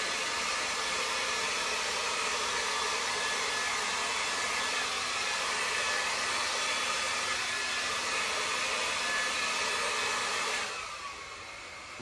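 A hair dryer on its cold low setting blows over poured paint on a canvas, giving a steady, close whooshing roar that carries on unbroken before cutting off near the end.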